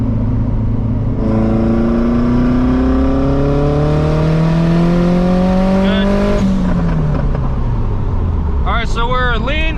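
A turbocharged third-generation car with an eBay GT35 turbo, being street tuned, accelerates hard on boost: a loud, close engine note climbs steadily in pitch for several seconds, drops sharply, and ends with a few quick chirps.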